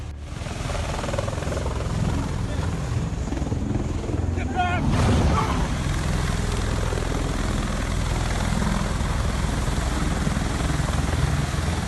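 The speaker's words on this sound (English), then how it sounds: "a United States Marine Corps MV-22 Osprey took off from the amphibious assault ship USS Bonhomme Richard" A United States Marine Corps MV-22 Osprey tiltrotor lifts off from the amphibious assault ship USS Bonhomme Richard during an exercise, giving a loud, steady rotor and engine roar with wind buffeting that holds throughout without a break.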